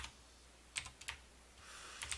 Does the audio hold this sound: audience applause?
no